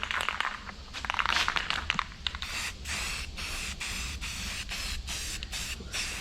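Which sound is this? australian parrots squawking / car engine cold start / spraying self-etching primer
spraying self-etching primer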